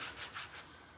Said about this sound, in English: So I'm going to go ahead and sand that down.